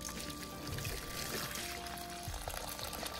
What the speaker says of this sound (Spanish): Y agua caliente.